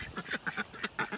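A dozen or so ducks, with ducklings and eggs nearby, quack in a rapid run of about eight short, nasal calls within a second, close and fairly loud with no talk over them.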